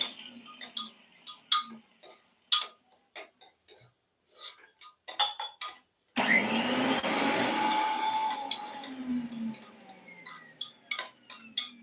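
An electric kitchen mixer grinds spices such as mint, poppy seeds and whole spices for prawn rice. Scattered clinks of jars and utensils come first, then a loud whirring burst that runs a couple of seconds and winds down, followed by more clinks.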